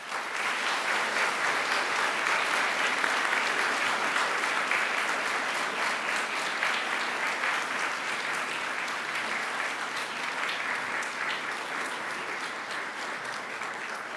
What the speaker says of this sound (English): give them a mighty round of applause